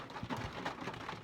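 Steady rain falls outdoors, a dense, even hiss of drops on surfaces that stays constant and fairly close throughout, with no voices over it.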